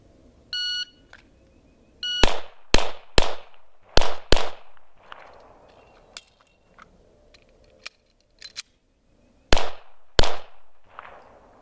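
Pistol shots ring out in a timed draw-from-holster drill. An electronic timer beeps first, then come sharp, loud reports in quick pairs and clusters, with a short gap where a reload happens before the final shots.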